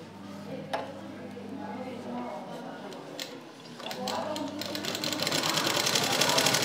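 Stitching down the side seam of a lehenga, a sewing machine starts with scattered clicks and then builds into a steady whirring run near the end.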